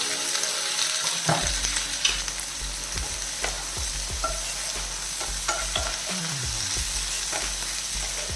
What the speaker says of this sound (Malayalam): മീഡിയം ഫ്ലെയിമിൽ വെച്ചിട്ട് വഴറ്റിയെടുക്കാം